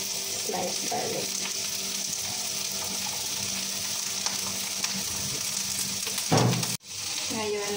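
Sliced garlic and onion sizzle steadily in a hot pan, a continuous frying hiss with occasional stirring, ending in a brief louder clatter and splash before the sizzle resumes.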